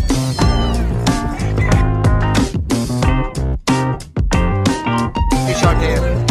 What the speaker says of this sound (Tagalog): Magkakapatid na British Shorthair.